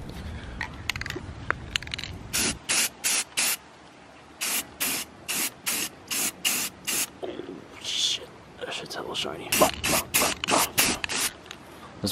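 Repeated short bursts of pearl spray paint from an aerosol can onto car wheels, close and loud, about a dozen hisses in an uneven rhythm with brief pauses, preceded by some rubbing and scraping.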